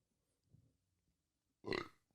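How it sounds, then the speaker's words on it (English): A single close, deep burp rises out of near silence after a faint earlier murmur, short and throaty at the end. "Excuse the burps."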